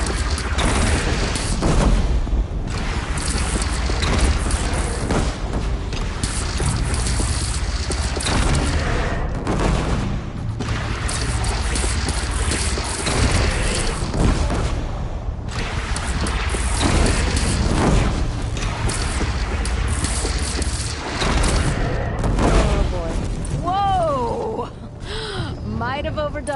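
Explosions bring down a bridge in the video game Horizon Zero Dawn, with heavy booms and crashing debris rolling through a dense, loud mix of battle noise, music and voices talking throughout.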